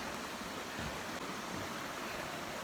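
A clean creek in America, passed on a bike ride, gives off a steady broadband rush of flowing water, fairly faint and unbroken, with no talking.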